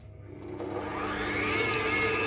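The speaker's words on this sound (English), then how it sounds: "Next, switch on this mixer thingy." An electric stand mixer switched on for kneading croissant dough spins up from quiet into a loud, steady whirring drone, with no talking.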